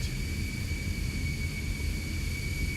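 A video game airplane flies at low altitude with a continuous, loud engine drone and a steady high whine on top. The roar stays even throughout with no voices.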